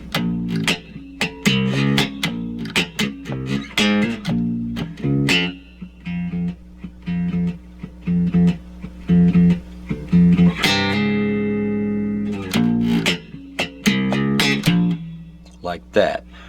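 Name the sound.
bass guitar playing music break of a song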